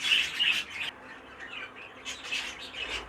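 Budgerigars chirp and twitter inside a budgerigar breeding shed, a busy flock of bright overlapping calls, loud at first and then dropping to a softer chatter before rising again.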